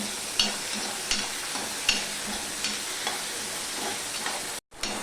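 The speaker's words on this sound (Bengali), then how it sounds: "ডালটা একটু ভাজা ভাজা হবে" Dal frying in a pan with ginger and green chilli for a semolina tiffin dish gives a steady close sizzle, broken by periodic scraping stirs, with a brief dropout near the end.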